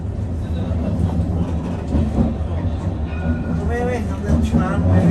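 Interior of a moving Edinburgh tram, a steady low rumble and rattle of the car running on rails, with people talking in the background throughout.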